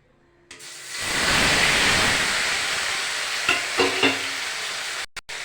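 Mustard seeds tempering in hot oil for a mashed taro dish burst into a loud, steady sizzle after a quiet start, with a few spoon or pan knocks near the end and a brief cut-off.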